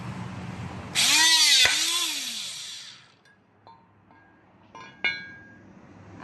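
A THAIWIN HP25S hydraulic puncher fitted with an 18 mm die drives through the flange of a 3-inch steel rain gutter. It gives a loud whirring motor surge with a sharp metallic snap, then a fading whine and a few light clinks.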